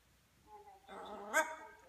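A macaw imitates a dog, giving one short, close, rising bark-like squawk with a yelp at its peak, preceded by a faint voice.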